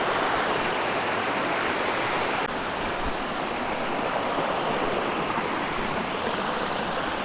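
Maticdum Busay waterfall in Tandag City, Surigao del Sur, Philippines, pours with a strong, steady roar of rushing water, dense and unbroken throughout, with no voices.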